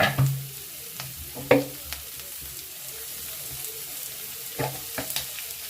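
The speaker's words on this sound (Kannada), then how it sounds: "ಈರುಳ್ಳಿ ಹಾಕ್ಕೊತೀನಿ ನಾನು. ಸ್ವಲ್ಪ ಫ್ರೈ ಆಗಲಿ." Onions and vegetables fry in a pan for an upma dish, a soft continuous sizzle broken by several sharp scraping stirs of a utensil against the pan, close and fairly quiet.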